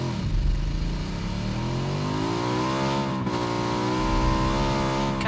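A motorbike in the battle-royale game PUBG roars steadily as it is ridden, the engine pitch climbing as it accelerates and holding at a loud, continuous drone.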